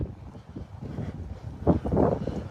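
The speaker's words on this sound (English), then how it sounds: "I'm sorry it's so windy" Gusty wind buffeting a microphone outdoors, a low rumbling roar that swells louder toward the end, with no clear speech over it.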